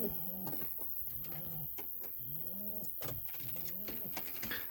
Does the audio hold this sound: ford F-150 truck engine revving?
no